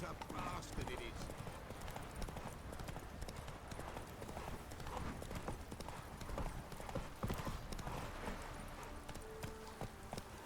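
Roach, a horse in The Witcher 3: Wild Hunt, trots with a steady stream of clip-clopping hooves over a busy game soundscape, with a voice talking over it.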